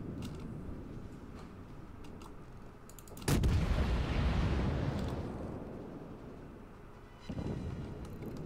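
Warship guns fire a loud broadside volley in World of Warships, a heavy booming blast at about three seconds that rolls and rumbles for several seconds, followed by a second, weaker thump, over a steady background drone.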